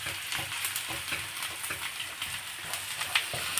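Onion sizzles in hot butter in a pan over a high gas flame for fried rice, a steady close crackle broken by the scrape and clatter of stirring.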